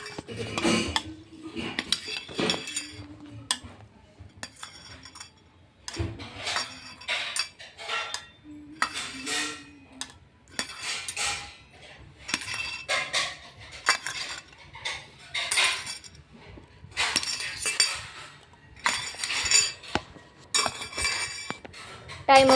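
A spoon clinks and scrapes against a bowl in quick irregular bursts during a timed ball challenge game, with short pauses between flurries, close and fairly clear with no talking.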